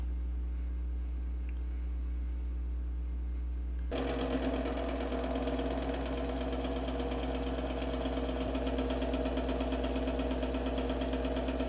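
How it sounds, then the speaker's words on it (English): A milling machine in a shop cuts metal at about 500 RPM with carbide inserts, taking a cut of about five thousandths of an inch. A steady, droning cutting whine with a rattling texture starts abruptly and continues evenly, with no talk. "I'm running this mill at about 500 RPM, not too fast."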